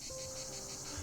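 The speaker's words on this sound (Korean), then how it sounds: "매미 울음소리만이 공원에 요란하게 울려 퍼졌다." Cicadas buzz loudly in a park on a hot summer day, a dense continuous high-pitched drone pulsing in a quick regular rhythm, steady and close with no talking.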